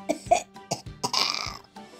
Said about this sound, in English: Poor Pedro Pony has a nasty cough.